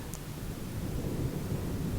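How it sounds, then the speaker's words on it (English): A thunderstorm with a low, steady rumble of thunder and rain, quiet and continuous, with no talk. "Thunderstorms may occasionally be heard, and rain will start to pour"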